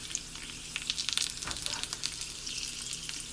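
Egg rolls fry in oil in a Green Life pan, a soft, low-level sizzle with quick crackles and spits that cluster briefly before settling into a gentle hiss.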